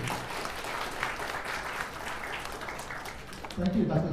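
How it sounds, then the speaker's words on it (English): A crowd at a book launch applauds steadily, with dense clapping that continues throughout and swells briefly near the end. "Another round of applause"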